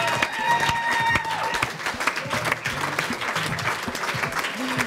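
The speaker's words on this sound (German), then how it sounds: "Herzlichen Applaus." A studio audience at a German interview show applauds steadily, a dense wash of many hands clapping that carries on for several seconds with a few voices underneath.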